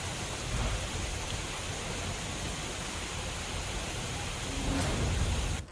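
Heavy monsoon rain pours steadily in Porbandar, a loud, unbroken wash of downpour with no voices.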